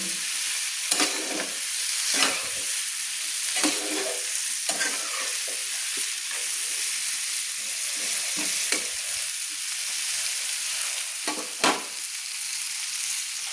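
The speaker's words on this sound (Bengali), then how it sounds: "একটু হালকা হালকা করে তেলের মধ্যে আমি একটু ভেজে নেবো তেল মশলার সঙ্গে একটু নেড়ে নেবো" Eggplant pieces fry gently in oil with spices while a spatula scrapes and turns them in repeated strokes, a continuous close sizzle underneath, no talking.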